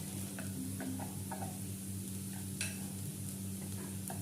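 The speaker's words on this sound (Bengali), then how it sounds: "দিয়ে হালকা হাতে ভালো করে চিড়েটাকে মিশিয়ে নেব।" Soaked flattened rice (chira) being stirred and mixed by hand into a pan for chira polao, soft scraping and tapping strokes over a steady low hum and faint sizzle.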